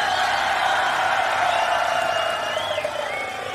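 A crowd at the Grand Beatbox Battle 2019 cheering, a loud sustained roar with scattered whoops and whistles that eases slightly toward the end.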